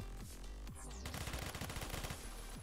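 Rapid automatic hipfire from a gun in the video game Phantom Forces, a fast steady burst of shots following a few separate reports, fairly quiet overall.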